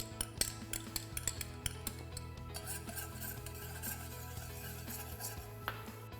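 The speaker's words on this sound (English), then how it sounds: "So in goes the garlic. Should be a gentle sizzle." Soft frying hiss of garlic in oil runs underneath repeated clinks and scrapes of a utensil stirring in a pan, fairly quiet and close, with no talking.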